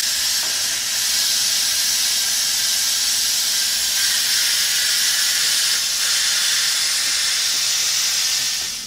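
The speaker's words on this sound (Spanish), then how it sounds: "Ya la voy a quitar de la estufa y voy a sacarle el vapor." Steam vents in a steady, loud hiss from a pressure cooker full of beef stew as it is taken off the stove, running without a break for nearly nine seconds.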